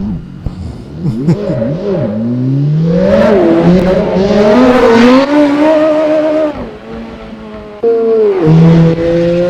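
A car drifting in a racing game, its engine revving and swooping in pitch through long slides while the tires squeal, loud and close, with brief dips where the throttle lifts before it climbs again.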